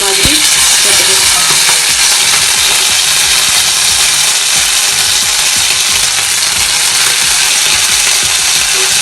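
Beef steak pieces frying in hot oil, a loud, dense, continuous sizzle with occasional clinks and scrapes of a utensil close by.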